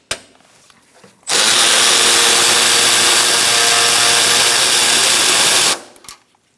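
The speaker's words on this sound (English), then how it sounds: "So now we're going to take this bolt out." Power tool spinning out a bolt on a 2002-2006 Honda CR-V during a starter replacement: a loud, steady whirring burst of about four and a half seconds that starts and stops abruptly, with quiet workshop noise on either side.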